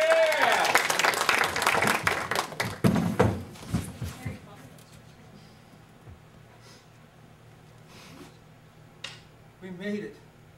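An improv comedy show audience bursts into applause that swells loudly for the first few seconds, then fades to sparse scattered claps with a quieter room and brief voices near the end.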